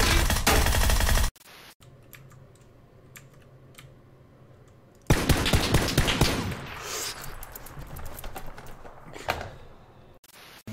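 Gunshots in the battle royale game PUBG come in loud bursts at the start and again midway, mixed with clattering keyboard taps and scattered sharp cracks between quieter stretches.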